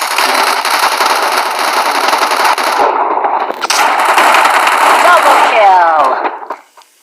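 Dense automatic gunfire from the video game Free Fire rattles almost continuously at close range, cutting out briefly near the middle, then returning and fading away at the end, with a voice heard faintly late on.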